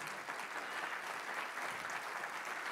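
Congregation applause in a church during a morning service, a dense continuous wash of clapping from many people, steady and fairly distant, heard briefly without speech.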